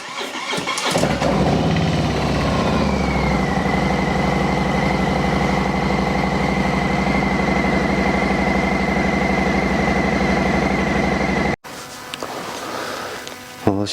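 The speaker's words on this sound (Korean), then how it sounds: "시동을 걸어 봅니다." A Harley-Davidson Milwaukee-Eight Softail Slim cranks and fires up after its fuel tank is refitted, then settles into a loud, steady, close idle that runs until an abrupt cut.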